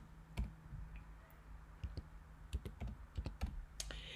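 Keys clacking on a computer keyboard while a date is typed into Photoshop: a close, quiet run of irregular taps and clicks with short pauses, no voices.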